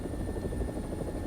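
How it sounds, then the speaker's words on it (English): AB 205 helicopter in War Thunder, its engine and rotor producing a steady, continuous low drone with a faint high whine, loud and unbroken throughout. "it's an alright helicopter, I guess"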